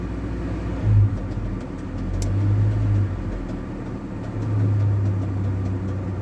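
A GAZ 2790 van engine idles and runs at low revs with a worn tensioner fault, producing a steady low drone with a faint repetitive knocking under a rough, continuous rumble, close and without talk.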